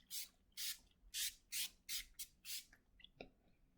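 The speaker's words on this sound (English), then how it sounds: "So I just go ahead and spray that all over my face." Rose facial mist is sprayed onto a face in six or seven quick, crisp hissing bursts at an even pace. Each puff is close and distinct, followed by faint soft rustling.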